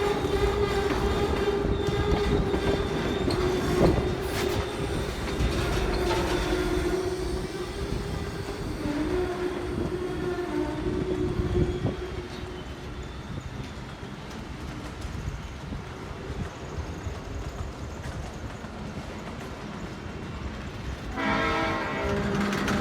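A video game train rolls along with a steady mechanical rumble and sustained horn-like tones, loud at first and then fading into a quieter rolling hum before a brief louder burst near the end.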